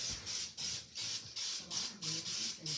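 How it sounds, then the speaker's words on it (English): Butter-flavored non-stick cooking spray coats a loaf pan in about six short hissing bursts, close and fairly quiet, evenly spaced with brief gaps between sprays. "I have non-stick cooking spray, butter flavor, to give it a little bit extra taste."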